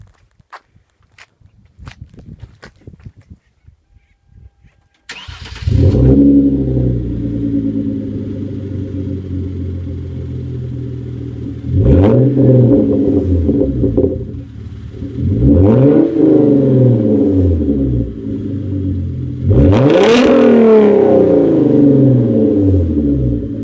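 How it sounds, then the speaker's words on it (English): A 2013 Hyundai Genesis Coupe 3.8 R-spec with the 3.8 GDI engine follows a few faint footsteps. Its exhaust starts with a loud bark, idles with a deep rumble, then revs hard three times. "let's finish this video with an exhaust clip"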